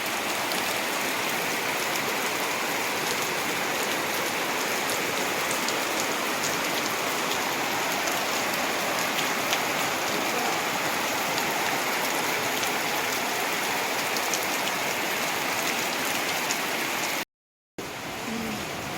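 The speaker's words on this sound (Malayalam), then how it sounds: "മഴയാണ്." Steady rain falls in a dense, even hiss that keeps going without letup, with a brief dropout near the end.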